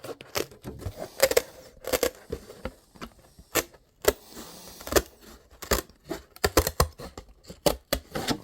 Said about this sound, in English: easy to cut it with scissors